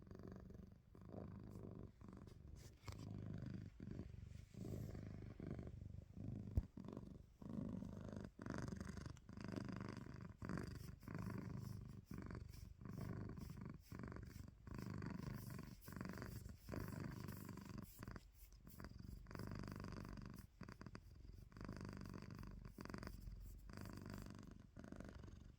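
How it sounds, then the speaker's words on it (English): A pet cat purrs right up close, its low, throaty rumble cycling in a regular in-and-out rhythm for a long stretch, faint but constant with no voices over it. "Sure hope they can hear your purrs."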